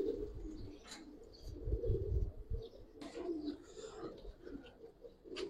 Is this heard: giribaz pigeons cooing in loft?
yes